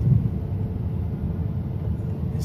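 Soft, continuous low rumble of a car rolling slowly through a property's parking area, steady and fairly quiet with a faint wind-like hiss.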